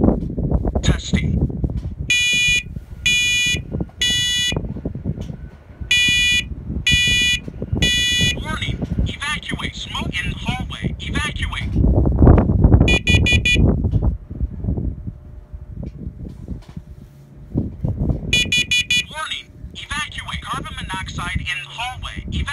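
A First Alert SCO7 smoke and carbon monoxide alarm sounds its test pattern in a hallway: bursts of loud, shrill repeated beeps in groups, alternating with a synthesized voice giving prompts.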